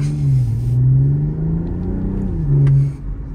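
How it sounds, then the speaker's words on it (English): A BMW M440 coupe's six-cylinder engine rumbles low and steady with a deep exhaust note, rising briefly in pitch before settling back; close and fairly loud, no talking. "It's got a little bit of a grunt, so you can tell that it's a 6-cylinder"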